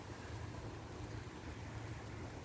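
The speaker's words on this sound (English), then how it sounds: "bear with me with the audio if we're getting some wind noise pickup" Blustery wind buffeting an outdoor microphone on a rainy garden day, a constant low rumbling roar with no gaps, fairly quiet overall and without any voices.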